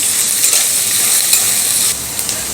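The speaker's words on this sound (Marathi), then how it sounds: "कांदा ही आपल्याला छान भाजून घ्यायचा आहे" Chopped onion for poha fries and is stirred in a pan, producing a loud, continuous close sizzle with faint scraping strokes.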